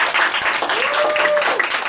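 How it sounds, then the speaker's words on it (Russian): Audience at a reading-aloud championship in Izhevsk applauds, dense continuous clapping filling the room, loud and close, with a faint voice briefly audible over it. "Аплодисменты."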